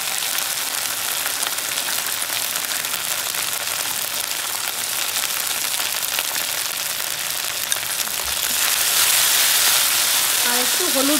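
Ginger and spices frying in hot oil for sukto, a Bengali vegetable dish, a steady close sizzle that grows a little louder toward the end.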